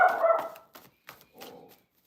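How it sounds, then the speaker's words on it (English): A dog barks several times in short, uneven bursts, close and fairly loud, with a whimpering yip among the barks and quiet gaps between them. "He growled first to warn you, then he barked."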